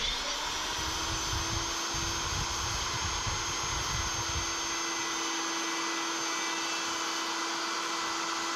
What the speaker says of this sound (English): So this is not typically how you would use a router